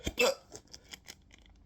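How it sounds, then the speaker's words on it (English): Hiccups right after eating a Paqui One Chip Challenge spicy chip: two or three short, abrupt hiccup sounds near the start, the first loudest, followed by fainter breathy catches. "God, I hate hiccups."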